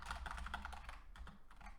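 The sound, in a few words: typing on a computer keyboard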